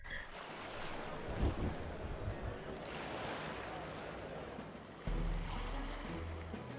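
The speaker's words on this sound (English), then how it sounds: "Ooh, a water gauntlet runner." A water gauntlet runner vessel in Metaphor: ReFantazio rushes over open water, with steady wave wash and wind roar throughout and a heavier surge of water noise near the end.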